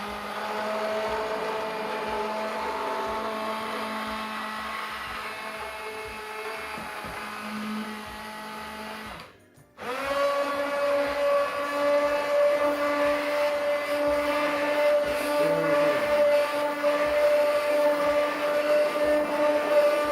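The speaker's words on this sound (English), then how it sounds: "then I'm just going to take my stick blender, put it at the bottom" A stick blender whirs through homemade pasta sauce in a pot, a continuous loud motor drone that cuts out briefly, then restarts with a higher, steadier whine.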